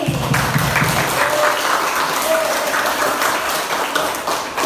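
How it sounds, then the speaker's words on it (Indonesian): A classroom of students applauds for their class, a steady broadband clapping that fills the whole stretch without pause, loud and close, with faint voices mixed underneath. "Tepuk tangan untuk kelas 8E."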